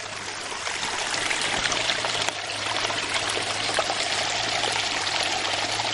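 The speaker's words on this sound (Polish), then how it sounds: "Tu sobie jakaś fosa płynie." Water flowing steadily along an outdoor ditch or moat, a continuous close rushing trickle with no break, heard alone without voices.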